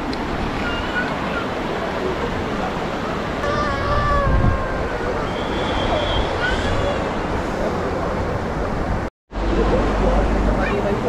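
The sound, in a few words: river flowing on the way to Sonamarg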